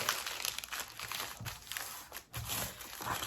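Paper coffee filters being folded by hand, giving soft crinkling and rustling paper sounds close by, quiet and uneven, with brief pauses between the folds.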